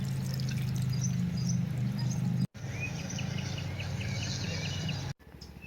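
Water poured steadily around the base of a zucchini plant, a continuous close splashing stream that breaks off briefly twice, with faint birdsong in the background.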